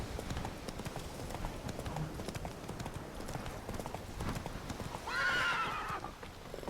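Roach the horse gallops with steady clip-clop hoofbeats in the video game Witcher 3, a continuous rhythmic patter, with a loud neigh near the end.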